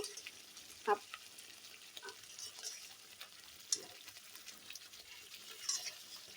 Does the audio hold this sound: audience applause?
no